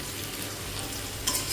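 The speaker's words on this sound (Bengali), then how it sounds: "চিকেনের জন্য এই যে পেঁয়াজটা লাল করে ভাজা হচ্ছে" Onions fry in hot oil for a chicken curry in a home kitchen, a steady close sizzle with stirring and a brief louder scrape near the end.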